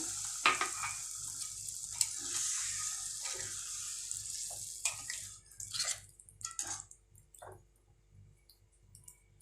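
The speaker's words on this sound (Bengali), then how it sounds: "এবার এর মধ্যে আমি 1 কাপ পরিমাণ জল অ্যাড করব।" A cup of water is poured into mutton keema sizzling in a pan for a dhaba-style dish. A strong hiss and bubbling frying sound fades over several seconds into scattered clicks and soft stirring.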